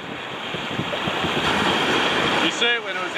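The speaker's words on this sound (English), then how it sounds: "Look at that big bow wave gone." A sailing boat's bow wave rushes and splashes steadily on the open ocean, close and loud with wind noise.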